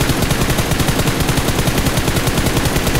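Rapid automatic gunfire in the mobile battle royale game BGMI, a loud, sustained burst of evenly spaced shots filling the whole moment with no talk over it.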